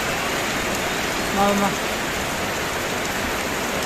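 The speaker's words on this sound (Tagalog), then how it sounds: "Grabing lakas talaga sa ulan" Heavy rain pours down in a dense, steady hiss, with a brief faint voice rising momentarily beneath the downpour.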